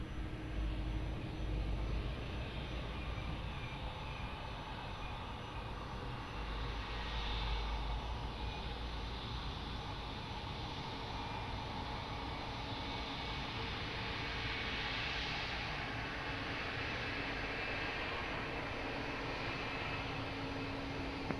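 Fixed-wing aircraft taking off at Lisbon Airport, a steady broadband engine roar holding at a constant level throughout, with a low rumble and no voices.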